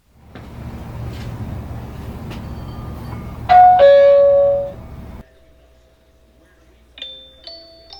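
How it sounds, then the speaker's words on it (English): A Zmodo Greet video doorbell rings with a loud electronic chime of sustained tones, then a quieter pair of higher beeping tones follows after a pause, over faint room noise. "testing and checking out the video doorbell"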